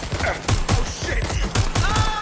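Gunfire in the video game Watch Dogs Legion: a rapid burst of repeated shots cracks out loud and close across the whole moment, with brief shouting voices mixed into the chaotic fight.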